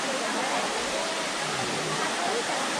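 A waterfall on Maui near hot springs pours in a steady, dense hiss of falling water that fills the whole stretch evenly and closely.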